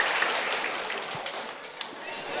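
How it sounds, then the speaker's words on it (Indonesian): A religious studio audience claps for a young Quran reciter, a moderately loud continuous patter of hands with a few sharper individual claps standing out. "Tepuk tangan lagi dong buat Arbi"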